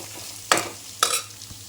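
Onion and garlic sauté in oil under a low steady sizzle, punctuated by two sharp scraping stirs of a utensil against the pan about half a second apart, close and fairly loud, with no voices.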